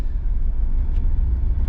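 Mercedes G63 AMG on the move, a loud steady low engine and road rumble filling the short stretch with no voices.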